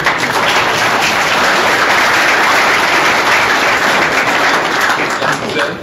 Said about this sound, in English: Let's give a big round of applause for one of them showing up.